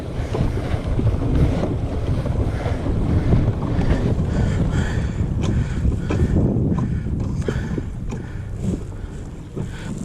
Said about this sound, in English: But it goes through these waves very easily.